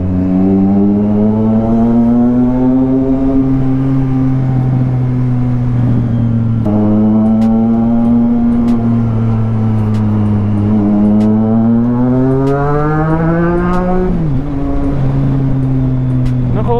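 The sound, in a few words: heavy road traffic, many cars passing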